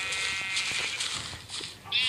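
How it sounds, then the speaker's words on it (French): A sheep bleats a few times in Minecraft, the cries short and wavering over a faint background, fairly close. "j'ai fait reproduire des moutons rouges"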